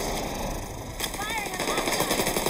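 Rapid automatic gunfire in the video game The Division 2, a loud sustained burst of shots over a dense battle soundscape, with game voices mixed in.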